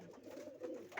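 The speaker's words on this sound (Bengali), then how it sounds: "দেখুন পায়রাগুলো" Pigeons kept by a hobbyist breeder coo softly in a short burst, a low murmuring call close by with no talking over it.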